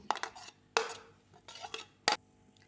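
Utensil scraping and clinking against a bowl while whisking an omelette mixture of egg with carrot, potato and onion, in several sharp bursts with quieter stirring between them.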